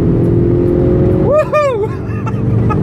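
A VW Mk6 GTI with an APR K04 turbo tune accelerates hard, its loud engine note sweeping upward in pitch through a quick rev climb and gear change before settling into a steady drone.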